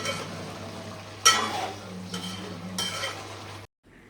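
A spoon stirs a pot of country chicken (natukodi) curry, giving a low simmering hiss with several scraping strokes against the metal, close and fairly quiet, before it cuts off near the end.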